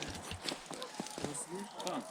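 Hooves of heavy draft horses clip-clop in a steady trotting rhythm on a hard surface in Ukraine while people talk over it at moderate volume.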